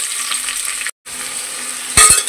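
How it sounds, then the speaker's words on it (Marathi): Onions hitting hot oil in a pressure cooker for one-pot chicken biryani, a loud, bright continuous sizzle with a brief cut and a couple of metallic clinks from stirring near the end. "आता आपण तेल तापलंय, कांदे सगळे टाकून घेणार आहोत."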